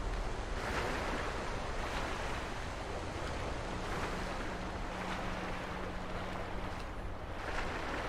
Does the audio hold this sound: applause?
no